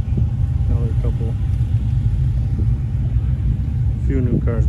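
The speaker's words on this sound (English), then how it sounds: "A few new cars mixed in. C10. Old Apache. On air ride." Cars including a Chevrolet C10 and an old Chevrolet Apache pickup on air ride roll past during a Power Tour cruise. A low, steady engine rumble runs throughout, and people talk faintly underneath it.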